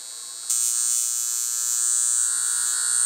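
A Lift Wand portable high frequency facial machine switches on after a brief pause and holds a steady, close, high-pitched electric buzz with no talking.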